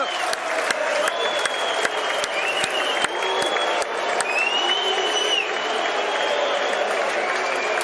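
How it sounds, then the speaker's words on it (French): Crowd applause fills an ice hockey arena during a silver medal ceremony, steady clapping and some cheering throughout, with sharp clicks and a commentator talking over it. "Sous les applaudissements de Graben."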